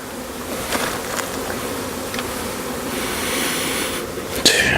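A dense honeybee swarm drones continuously at close range, a steady buzzing hum with occasional louder passes near the end.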